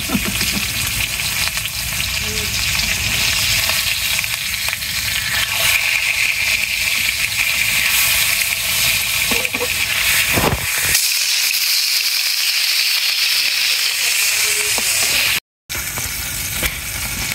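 Large round eggplant slices fry in hot oil in a pan, giving a loud, steady close-up sizzle and hiss with a few stirring scrapes, then easing off near the end, with no talking.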